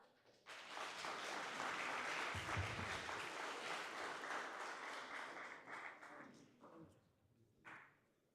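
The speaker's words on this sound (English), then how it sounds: "A good clap for Shadrach." Audience applause at a campus coffee-and-code tech meetup, a dense, steady crowd clapping that swells quickly, holds loud for several seconds and then thins out to a few scattered claps before a brief voice.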